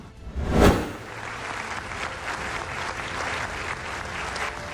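Audience applause greeting a new government's announcement, opening with a loud burst and then settling into steady, dense clapping from a sizeable crowd for several seconds.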